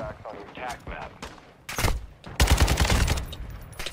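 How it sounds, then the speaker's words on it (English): Gunfire in Call of Duty DMZ aimed at the player: scattered sharp shots, then a loud burst of rapid automatic fire, mixed with someone talking. "Who is shooting me?"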